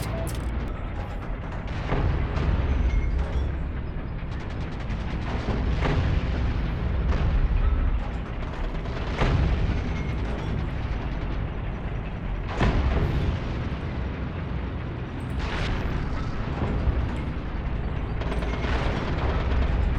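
A 45mm gun firing in the online war game Heroes and Generals, with heavy booming shots repeating every few seconds over a low rumbling battle backdrop, loud and close with no voices.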